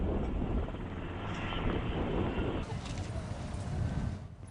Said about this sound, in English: Michael goes out on a ride aboard a U.S. Army Black Hawk helicopter